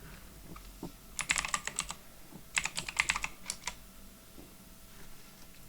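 Someone types a terminal command on a computer keyboard in two quick bursts of close, crisp key clicks separated by a short pause, against a quiet room background.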